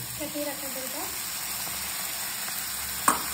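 Yogurt stirred into spice masala frying in a pan for a katla fish curry gives a steady close sizzle. A voice is briefly heard early on, and a short clatter comes near the end.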